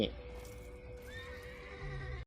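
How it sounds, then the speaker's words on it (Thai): A horse neighs in the dark-fantasy mobile MMORPG Loong Origin Clash, a loud, close whinny with a quivering pitch that fades, set over a soft game background with a dull thud of hooves near the end. "ตอนนี้เราได้ม้ามาขี่แล้วนะครับ"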